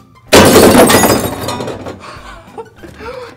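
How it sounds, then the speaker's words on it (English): A glass bottle crashes and shatters loudly, the burst trailing into scattered clinks and small rattles of debris, with faint sounds continuing afterward. "Ooh, a glass bottle."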